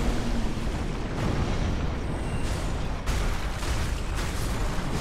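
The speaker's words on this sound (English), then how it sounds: "Just try to throw a firebomb" A thrown firebomb bursts in Dark Souls 3 in the Cathedral of the Deep amid a swarm of enemies, a dense rumbling roar with sharp bursts around one and three seconds, with no talk over it.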